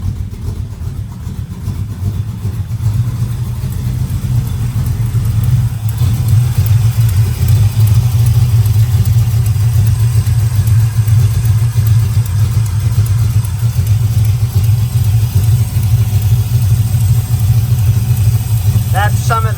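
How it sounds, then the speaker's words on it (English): A 383 engine in an El Camino with a Holley 750 carburetor and new exhaust rumbles loudly and steadily near the mic, with the throttle pulsed and the revs swelling slightly partway through. "That's me pulsing the throttle right there."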